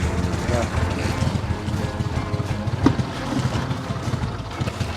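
Strong wind outdoors on a crawfish boat in the South Louisiana cane fields, a steady loud rumble buffeting the microphone for the whole stretch.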